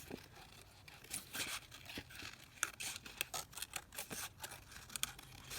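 Scissors snipping through a paper and fabric topper, a run of quiet, irregular crisp cuts with soft rustling and crinkling between them, close up and without any talking.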